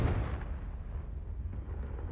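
A Confringo fire spell bursts in Hogwarts Legacy, a single low booming blast at the start that rumbles and fades over the next two seconds.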